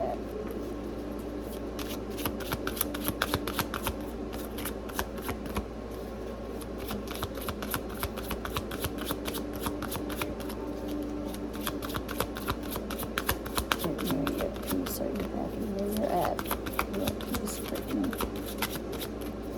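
Playing cards shuffled during a card reading, a continuous run of rapid riffling and snapping close by, with a person talking over it throughout.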